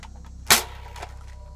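A single sharp pop of a toy blaster firing a red foam dart, close and short, followed by a faint thud against a steady low hum.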